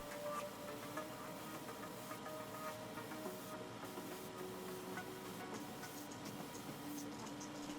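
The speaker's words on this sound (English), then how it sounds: "I load the red enamel straight out of the bottle into my airbrush with the pressure set at 13 psi." An airbrush spraying red enamel paint at 13 psi gives a steady, faint hiss with a faint mechanical hum underneath, continuous and unchanging for the whole stretch.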